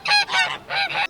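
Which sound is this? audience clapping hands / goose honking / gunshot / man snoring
goose honking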